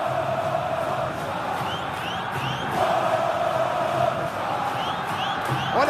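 Coritiba supporters roar in a packed stadium during a 2011 Copa do Brasil decider against Vasco, a dense, continuous wall of crowd noise with chanting and occasional whistles.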